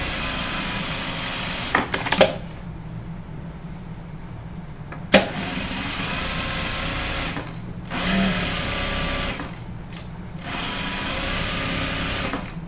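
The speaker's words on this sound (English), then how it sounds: "it's super satisfying to sew that fast" A sewing machine runs fast in long steady bursts with a loud, close mechanical whir, separated by short pauses and a couple of clicks.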